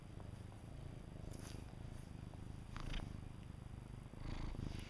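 A pet cat purrs softly and steadily up close, a low rumbling drone with faint rhythmic pulses, heard alone in a quiet setting.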